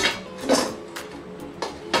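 A stainless steel camping cookware lid, meant for cooking over a campfire, is handled in a few separate metallic clinks and taps at close range, with no speech.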